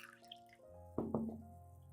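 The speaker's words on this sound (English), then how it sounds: "First, pour the coffee solution into a clean cup," A coffee solution is poured into a clean cup, heard as two quick, close liquid splashes and trickles, quiet and brief against a near-silent room.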